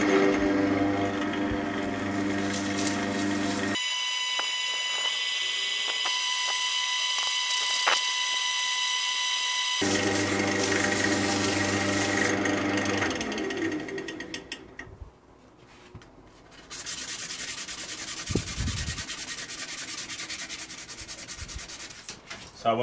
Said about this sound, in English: First, I'm going to sand it down to 240 grit.